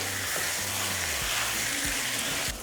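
Beef sizzling steadily in a frying pan as salsa is stirred in, with loud continuous frying hiss and a few soft scraping strokes from the spoon.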